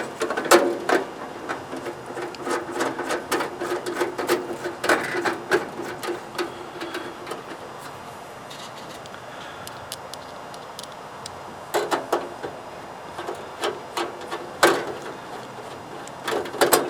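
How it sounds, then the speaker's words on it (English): Screws are driven into a part of a Big Horn pellet pizza oven during assembly, heard as repeated sharp mechanical clicks and whirring bursts in uneven clusters, close and fairly quiet, with a short lull in the middle. "now you're going to install your screws"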